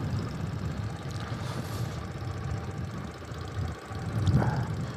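A Bullet motorcycle rides along a bumpy road, its engine giving a faint, steady low rumble with slight surges, carrying on without any talk.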